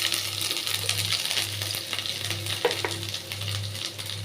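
Chopped ginger frying in a pan with whole cumin seeds over raised heat, a steady loud sizzle with a low hum beneath and occasional stirring clicks, no voices.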